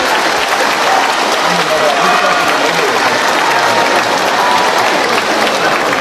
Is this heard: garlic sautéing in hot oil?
no